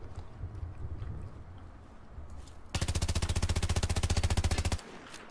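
An A280C blaster fires a rapid, evenly spaced burst of about two seconds in the Star Wars Battlefront game, loud and close, after quieter background battle noise.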